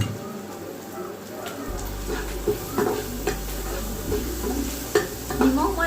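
Salt tipped into hot oil in a pan, setting off a steady close sizzle with stirring scrapes and occasional clinks, a voice speaking over it at times.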